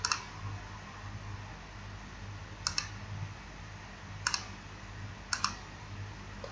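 Computer mouse clicks come through sharply and close in a quiet room, a double click at the start followed by three more single or paired clicks spaced a second or so apart over a faint hum.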